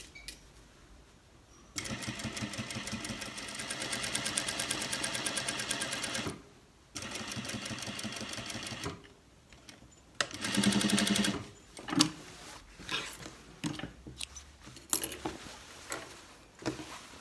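A sewing machine stitches a pocket onto the back of cargo trousers, running in long steady buzzing bursts with pauses, then shorter starts and stops near the end.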